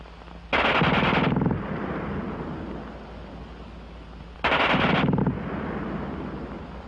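German WWII machine gun firing rapidly: two loud, close bursts of very fast automatic fire, each under a second long, separated by a few seconds of echoing decay.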